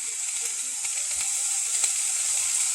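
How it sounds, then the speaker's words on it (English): Vegetables sauté in a hot pan for chicken fajitas, a steady close hiss and sizzle with faint scraping as they are tossed. "that's called flipping, and that's what the word sauté means"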